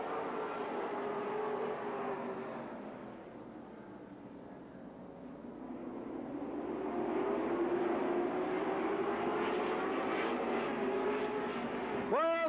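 Race cars roar around the Lake Geneva oval in a fall classic, their engines a distant continuous drone that fades and then swells louder as the pack comes around.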